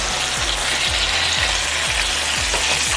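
A steak sizzles and spits steadily in a hot pan, a loud, dense frying hiss running unbroken throughout, close up with no voices.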